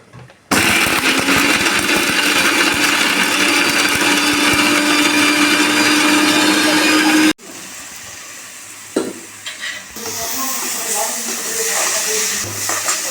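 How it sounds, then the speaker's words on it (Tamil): Mixer grinder whirs loudly and steadily while grinding coconut, garlic, pepper, cinnamon, clove and a little tamarind into a fine paste for snake gourd dal sambar, then cuts off, followed by quieter kitchen sounds. "மிளகு எல்லாம் போட்டு இப்போ இது நல்லா நைஸாக அரைச்சிக்கிறோம்"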